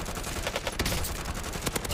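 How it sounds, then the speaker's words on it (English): Continuous bursts of gunfire in Call of Duty Warzone, a battle royale shooter, rapid overlapping shots and impacts sounding close and loud throughout, with no talking. "Guy shooting at me underneath the wing"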